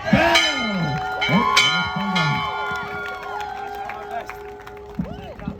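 A bell rings repeatedly with bright, sustained tones at a class of 2023 graduation celebration, amid a cheering, applauding crowd and people speaking.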